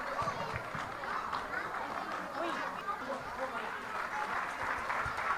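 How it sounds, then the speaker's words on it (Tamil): Audience clapping for children receiving prizes at a Tamil school's Chithirai festival, a dense steady patter of applause mixed with crowd chatter throughout. "நல்லா கைத்தட்டுங்க."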